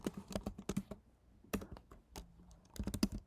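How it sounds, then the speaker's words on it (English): Computer keyboard typing in short bursts of rapid, close key clicks separated by brief pauses, quiet and with no talking. "I'm typing this all out the long way for some reason."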